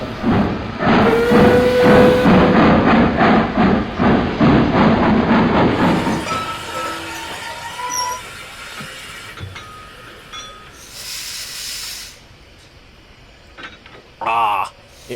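A train pulls into a station with heavy rumbling and chuffing, a steady whistle-like tone and hissing steam, loud at first and then settling into quieter station ambience with occasional squeals and clanks.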